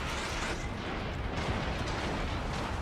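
Heavy guns firing in a naval battle game, heard as a continuous deep, rumbling roar of distant booms blending into one another at a moderate, steady level.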